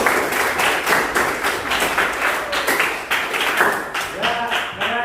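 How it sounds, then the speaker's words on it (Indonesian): Schoolchildren in a classroom clapping for a classmate at the end of a lesson, bursts of rhythmic group clapping that rise and fall in waves, close and fairly loud, with a few voices mixed in. "Tepuk tangan dong untuk Anissa."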